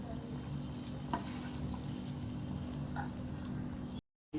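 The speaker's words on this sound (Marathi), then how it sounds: "1-2-3 मिनटं फक्त उकळून द्यायचं आहे आपल्याला." Chole masala gravy bubbles in a pan on the stove with a faint, steady simmering hiss and a few soft pops and stirring clicks, cut off briefly near the end.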